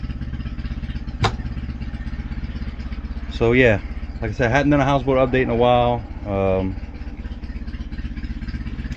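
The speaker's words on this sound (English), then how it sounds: "Now the engine's back going" A small houseboat engine runs steadily at idle, a constant low mechanical drone with clatter that continues throughout while someone speaks over it.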